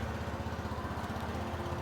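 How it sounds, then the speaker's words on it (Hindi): A 2025 TVS Jupiter 110 scooter engine idles close by with a steady, rapid low thumping pulse that holds even throughout, with no talking. "आइए अब इसको स्टार्ट कर लेते हैं, इंजन साउंड सुन लेते हैं, एग्जॉस्ट नोट सुन लेते हैं।"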